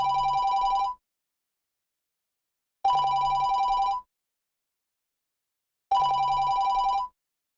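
A mobile phone rings in three identical electronic bursts, each about a second long and separated by two seconds of silence, loud and close with no voices.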